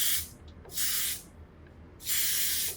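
Esha Melt N Slay spray is sprayed onto a wig in three sharp hissing bursts, close to the microphone, with quiet pauses between them.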